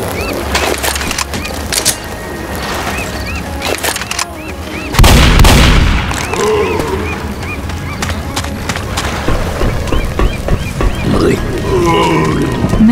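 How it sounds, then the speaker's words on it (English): Dual pistols firing in the zombie shooter Left 4 Dead, rapid sharp shots scattered through a busy game mix, with a louder burst near the middle amid growls and background clamor. "A little double pistol action."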